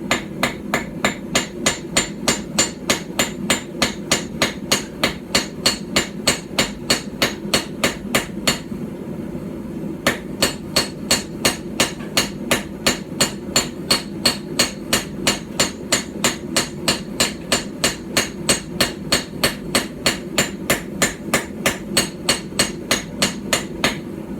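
A hammer forges metal on a Viking-style stump anvil, striking in a steady, rapid rhythm of sharp ringing blows with one short pause partway through; the strikes are close and clear, with no talking.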